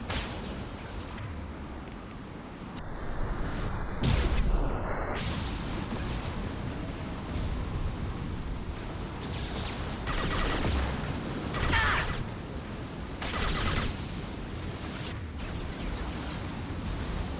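Rapid automatic fire from the Tempest SMG in the Mass Effect Legendary Edition video game, loud bursts with crackling impacts and explosions repeating throughout amid a busy battle.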